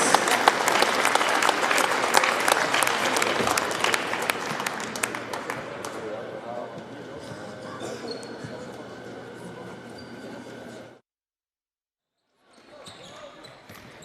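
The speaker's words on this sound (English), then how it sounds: "please give one more round of applause for our seniors, Reese, Brenna, Emma, and Raina" A gym crowd at a high school girls' basketball game applauds senior players, clapping and cheering loudly at first, then thinning to a lighter patter before a short silence and a faint return of crowd noise.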